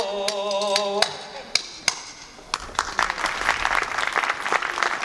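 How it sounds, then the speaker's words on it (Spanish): Audience at a folk music performance in Vitigudino applauds the singers, scattered sharp claps swelling into steady clapping after a sung phrase ends, with a voice briefly heard. "Un aplauso para estas chicas, por favor."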